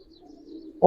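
A Giribaz pigeon of an old breed coos once in a low, steady, drawn-out note, close and fairly quiet, ending in a sudden louder burst.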